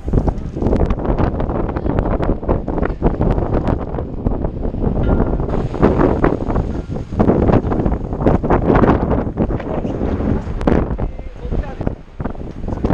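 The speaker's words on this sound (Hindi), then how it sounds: "हवा बहुत ही तेज़ चल रही है।" Strong wind buffets and roars across the microphone in gusts while someone talks over it throughout.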